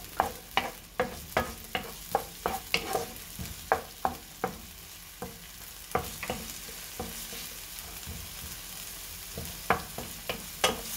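Ingredients sautéing in olive oil in a pan for provincial-style pancit: a steady close sizzle broken by a quick run of sharp spatula clacks and scrapes, a pause, then more stirring strikes, with no talking.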